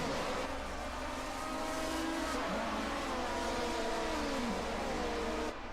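Racing cars on the Diepholz airfield circuit during a 1979 DRM Division 2 race, a continuous engine drone with rising and falling revving tones, moderately distant, no talk.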